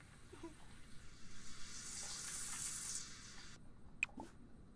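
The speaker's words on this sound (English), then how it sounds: "she needs to take a shower" A Sims 4 shower running in the video game, a soft hiss of spraying water that lasts a couple of seconds and then stops, followed by a few faint drips.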